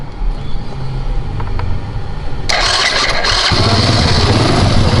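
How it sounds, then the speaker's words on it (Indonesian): A restored 1976 Honda C70 engine cranks and catches, settling into a loud, steady motorcycle idle with a rough, rumbling tone that keeps running to the end. "Kita tes starter tangannya."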